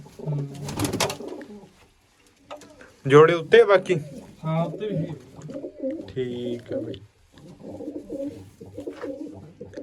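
Pigeons coo softly in the background while people talk nearby, their voices louder than the birds.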